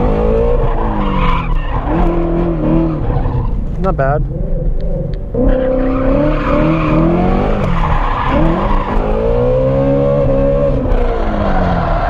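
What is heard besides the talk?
2017 Shelby GT350 drifting, tires skidding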